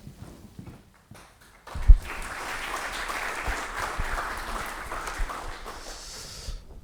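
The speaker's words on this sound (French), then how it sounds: "Attendez avant d'applaudir." An audience bursts into applause during an opening speech at an entrepreneurship event, a few scattered claps giving way after a short pause to sustained, even clapping from a crowd in a hall.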